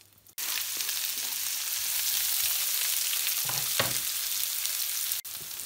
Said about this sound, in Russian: Так, ну вот наш лучок жарится так, томится.